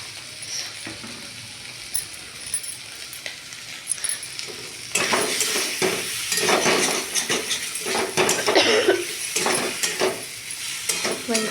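Potato curry with cumin and ginger is sautéed in a pan, starting with light clinks and soft sizzling, then louder steady frying with repeated spatula scrapes and stirring against the metal.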